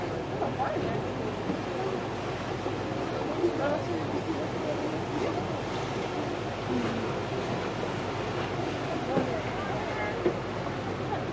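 A glacier cruise boat moving through the water off Seward, Alaska, with a steady engine and water rush mixed with wind buffeting the microphone throughout.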